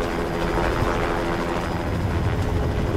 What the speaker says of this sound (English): There was a helicopter that we could hear that was getting closer and closer and closer